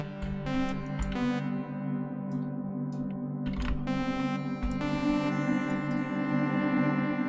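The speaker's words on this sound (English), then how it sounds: "The reverb is also pretty nice" Sustained HY Poly synthesizer tones with a long, smooth reverb tail, chords blooming and washing into one another with no voices present.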